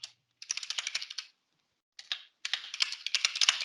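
Rapid clicking keystrokes on a computer keyboard, quick runs of crisp taps broken by short silent gaps, close and fairly quiet.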